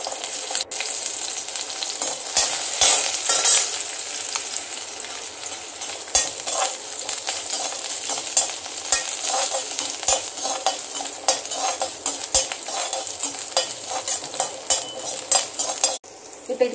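Garlic and ginger frying and being stirred in a pan with green chillies for raw jackfruit kurma, a steady close sizzle with repeated utensil scrapes and clinks against the pan throughout, no voices.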